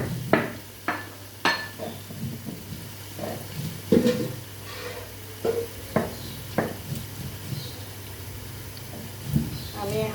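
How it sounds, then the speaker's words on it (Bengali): Rice soaked for over half an hour is added to a pot with shrimp, bringing scattered close clinks and scrapes of a utensil against the pot while a voice talks. "এখন আমি চালগুলা দিয়ে দিচ্ছি"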